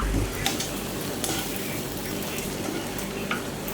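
Steady sizzling and crackling of eggs frying in hot oil in a pan, continuous and close, with no talking.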